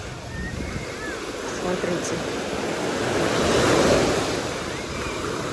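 Strong sea waves surging and crashing onto a beach in Turkey, a continuous roaring wash with wind buffeting the microphone, swelling louder toward the middle; someone speaks briefly over it.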